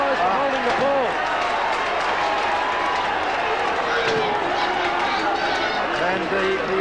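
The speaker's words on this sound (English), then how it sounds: "And the East Perth crowd becoming very vocal. It's not a big crowd, but it's a noisy one." A small but noisy East Perth crowd at Perth Oval during a 1991 WAFL Australian football match, a steady roar of shouting voices under close commentary.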